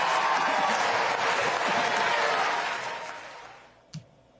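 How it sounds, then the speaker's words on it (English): A crowd at a conservative political rally in Texas roars with cheering and applause, loud and sustained, then gradually fades away, ending with a brief isolated thump. "You hear that cheering?"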